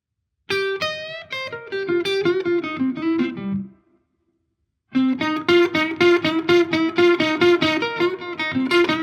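A slow blues lick on electric guitar, played over a C root chord: a run of bent, singing notes, a brief pause, then a second phrase of quick notes, loud and close with no talking.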